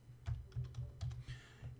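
Soft, quiet keystrokes on a computer keyboard tap out in an irregular rhythm of short bursts, close by and alone.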